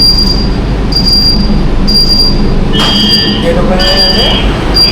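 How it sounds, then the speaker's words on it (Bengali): A Kolkata Orange Line metro train squeals on its wheels at a terminal station, loud and close, with high metallic screeches rising and falling over a steady rumble. "ট্রেন কিন্তু বেরিয়ে যাবে আবার বেলেঘাটার দিকে"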